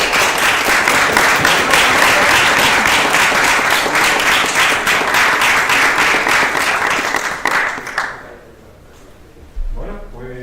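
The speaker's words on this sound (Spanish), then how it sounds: "pues un fuerte aplauso para ellos." Loud, sustained applause from the audience at a cosplay stage contest, many hands clapping densely for several seconds before fading out abruptly, followed by a brief quiet stretch and a thump.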